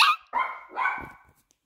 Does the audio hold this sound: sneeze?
no